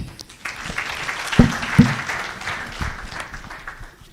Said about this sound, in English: Another round of applause to them.